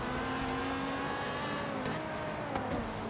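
A Dodge Viper's engine drones and revs in racing in Forza Horizon 3, a sustained steady roar with rising pitch and a brief tire squeal near the end, moderately loud with no talking.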